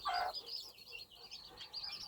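A bantam hen brooding her chicks gives a sharp cluck, then a run of soft clucks and faint chick peeps continues close by without pause.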